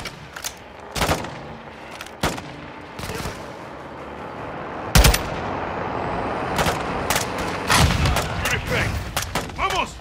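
Heavy gunfire in the Call of Duty Modern Warfare 2 (2022) video game, with repeated sharp shots and bursts over a dense battle din and shouted voices, loud and close throughout.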